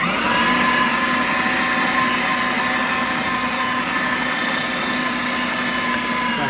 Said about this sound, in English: This is my grinder, because it's kind of noisy, but I'll turn it on.